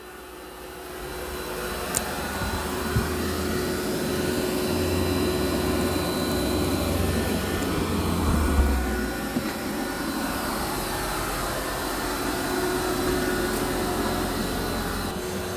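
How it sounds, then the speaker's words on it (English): A Dreame X60 Ultra robot vacuum mopping a room in a crisscross pattern gives off a steady, loud motor whir with a constant tone, alone and unchanging throughout. "it's going back and forth in a crisscross pattern now"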